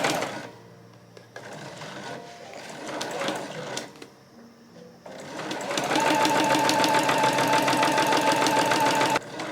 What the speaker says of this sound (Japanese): これでちょっとリラックスして縫っていきます。